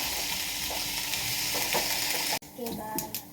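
Mustard seeds and fenugreek sizzle in hot oil for a Kerala-style varutharacha sambar, a steady close crackling fry with scattered pops that cuts off and returns thinner near the end.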